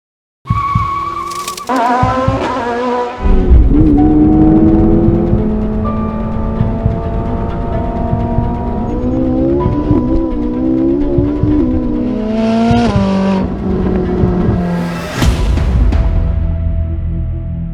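A Toyota GR sports car launches hard, tires squealing and skidding as the engine revs loudly, with rising gear pulls and several sharp shift breaks, close and alone.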